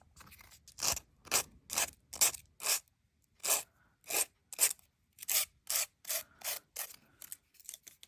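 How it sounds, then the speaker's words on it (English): Scissors cutting the corners of metal tape art on a Christmas tag kit, a steady run of about fifteen close, crisp rasping snips in quick rhythm, with no talking. "Okay, I think it's better to just trim the corners."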